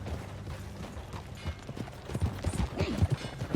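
Horse hooves clopping in Red Dead Redemption 2, a series of irregular soft thuds on a low bed of game ambience, growing busier and more distinct toward the end.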